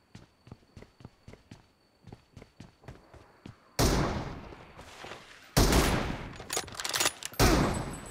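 Gunfire in the battle royale game PUBG: a string of evenly spaced single shots, then loud, close bursts of rapid automatic fire with sharp cracks, and no talking.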